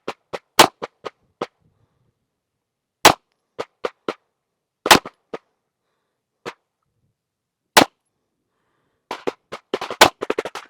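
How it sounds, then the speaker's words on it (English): Five pistol shots fired at a target during red-dot zeroing, sharp and evenly spaced, standing alone in an otherwise quiet outdoor range with other distant shots and clatter heard around them. "5 precise shots."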